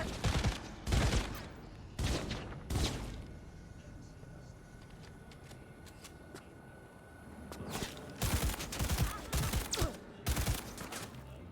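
Gunfire in Cyberpunk 2077, loud clustered bursts of shots in the first few seconds, a quieter stretch, then more rapid volleys toward the end, with some speech mixed in.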